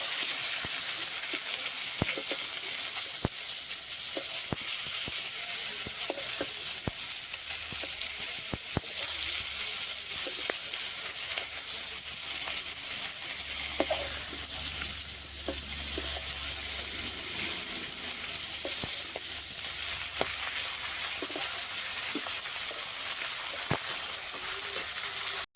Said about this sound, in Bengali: বাজার থেকে আনা মাছটা মশলা মাখিয়ে এখন কড়াইতে দিয়ে দিয়েছি ভাজতে